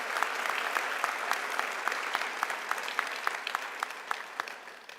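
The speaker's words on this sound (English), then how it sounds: "Let's give a round of applause to the graduates being honored today for this incredible" A large audience claps steadily for graduates at a community college commencement ceremony in Oklahoma City, a dense, even applause that holds throughout and slowly eases toward the end.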